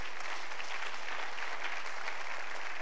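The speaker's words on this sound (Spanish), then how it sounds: "Dele un fuerte aplauso a Cristo Jesús esta noche" A church congregation gives a sustained, even round of applause at an evening service, heard at moderate level with a faint low hum beneath.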